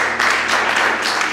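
A church congregation claps together, a dense wash of applause rising and falling in bursts with no voices over it.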